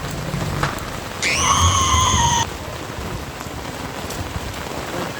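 Typhoon rain falls in a steady, close hiss in a Philippine city during Typhoon Kristine, briefly joined by a sustained horn-like tone partway through.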